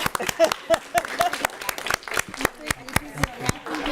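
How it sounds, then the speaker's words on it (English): Scattered hand clapping from a few people at a school board meeting after a unanimous vote, sharp uneven claps running throughout with voices talking over them. "Okay, now I can clap."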